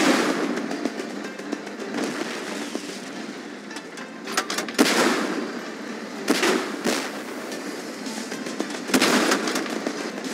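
Tank cannons fire repeatedly in the online tank game Tank Force on a Great Wall map, sharp loud blasts at irregular intervals over continuous battle rumble and crackling.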